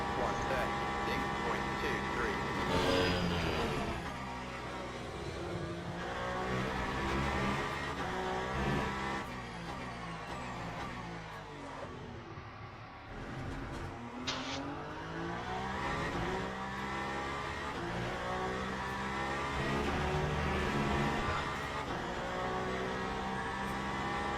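Race cars, a Lamborghini among them, rounding a hairpin in an endurance racing video game: loud, sustained engine drones rising and falling in pitch as the cars brake and accelerate, with a voice talking over them throughout.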